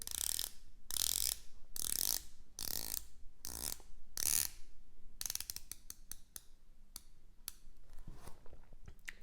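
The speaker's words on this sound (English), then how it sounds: "The bezel has a nice action." The rotating bezel of an Omega Seamaster 300m 2531.80 watch turns in close-up, a series of crisp ratcheting clicks, first in several separate bursts and then in quicker runs of fine ticks, quiet and alone.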